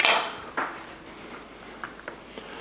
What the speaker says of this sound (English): Okay, and we'll chop this up.